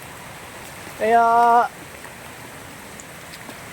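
Strong floodwater runs after heavy rain, a steady wet rush throughout, with a short spoken word partway through.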